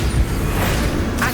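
A Bombarda explosion spell in Hogwarts Legacy, a loud, booming burst with a rumbling whoosh that fills the whole moment, ending in a brief brighter crackle.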